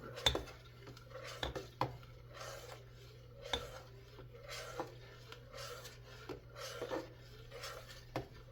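A utensil scrapes and clinks against a pot while egg is stirred into palabok sauce, quiet repeated strokes with occasional sharper metallic knocks.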